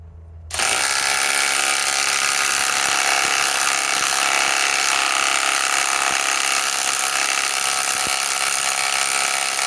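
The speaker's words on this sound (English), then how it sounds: "Ridgid R8721 half-inch right angle impact wrench. Speed 3. Let's remove this one." A Ridgid R8721 half-inch cordless right-angle impact wrench on speed 3 kicks in abruptly while removing a bolt. It then hammers continuously in a loud, close, buzzing rattle for several seconds.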